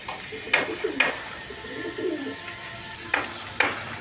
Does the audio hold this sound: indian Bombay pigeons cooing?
yes